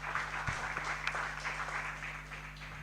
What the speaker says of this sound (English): Please, another hand of applause.